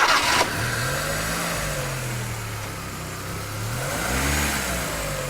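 A Volkswagen car engine with electronic fuel injection runs during a knock sensor test, starting with a sharp burst then settling into a steady mid-pitched hum that rises and falls as it is revved.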